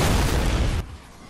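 A rocket blast in Fortnite, a loud broadband boom that fills the clip for most of a second before dropping sharply to a quieter rumbling tail.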